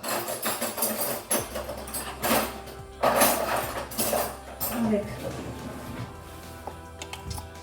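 Someone rummages through cutlery in a kitchen, making repeated metallic clinks and clatters of utensils and dishes while a person talks over the noise.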